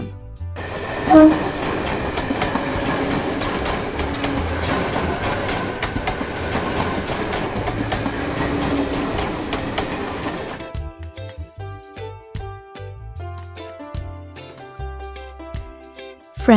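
A tram rumbles loudly along the tracks with rhythmic clacking, then gives way to a lighter, melodic jingle near the end.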